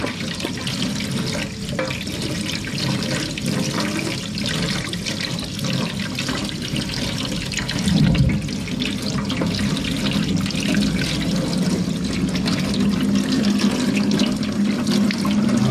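Mud crabs are scrubbed under a running kitchen tap, with a steady close stream of water splashing over the shells and sink for the whole stretch and occasional louder sloshes.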